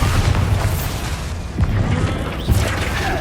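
A Confringo blasting spell goes off in Hogwarts Legacy, giving loud booming impacts and crashes, with a couple of sharp bursts and no voices over it.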